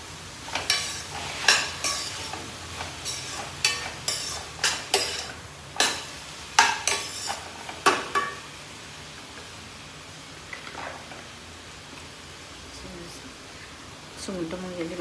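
Prawns with onion, tomato and green chili are stirred and tossed in a hot pan, rhythmic scraping clacks over a soft sizzle while a person talks over it.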